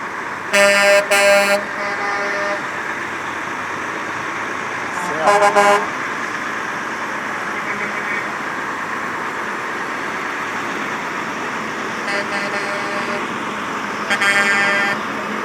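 A Road Metals Mack truck sounds repeated loud air-horn blasts in bursts, with a low engine drone in between, and people talk over the scene.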